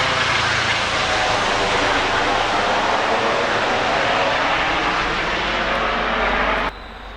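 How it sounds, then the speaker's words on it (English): A loud, steady engine roar from a helicopter passing overhead fills the whole stretch, then cuts off abruptly near the end. "And of course we have a helicopter coming, flying overhead."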